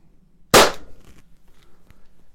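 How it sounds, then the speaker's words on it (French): A single sharp gunshot cracks indoors through a Caldwell chronograph. One loud close report is followed by a short room decay and quiet handling noise. "Donc je tire une première fois."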